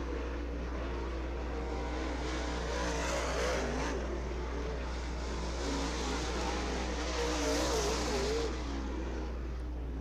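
Modified race cars lap Ocala Speedway, heard as a continuous, fairly faint roar of engines from the stands, rising and falling as the cars pass, with a steady low hum underneath.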